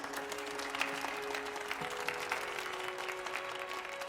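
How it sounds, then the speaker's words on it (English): Audience applause at a staged conference for Centaurus Alpha's representative, a moderate, even patter of clapping with faint sustained tones running underneath. "Let's applaud Centaurus Alpha's commitment to our cause."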